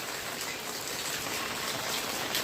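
Light rain falls steadily outdoors, a soft, even hiss of drops with no breaks and no voices, moderately quiet and close around the listener.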